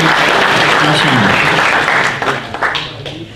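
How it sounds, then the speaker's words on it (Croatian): An audience claps loudly and steadily during a ceremony at which charters are handed out, marking the fortieth anniversary of the Starina Novak gusle players' society in Pale, then fades into scattered claps and murmuring. "evo tu je aplauz za njih"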